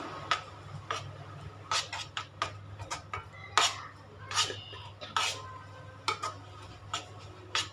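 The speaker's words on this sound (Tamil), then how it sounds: "இப்போ இது ரெண்டுத்தையும் நல்லா மிக்ஸ் பண்ணிக்கலாம்." Idli batter with salt being stirred in a bowl, giving repeated light clinking and tapping of a utensil against the bowl in an uneven rhythm over a low steady hum, fairly quiet and close.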